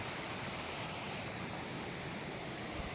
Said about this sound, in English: tried to get closer to the waterfalls and did a small trek